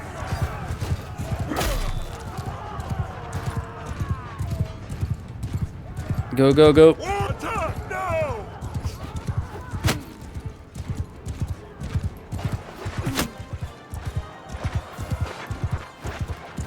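Hooves clip-clop in quick galloping rhythm from horses in the medieval battle game Mount & Blade II Bannerlord, close and steady, with a whinny, shouted voices and the player speaking over them.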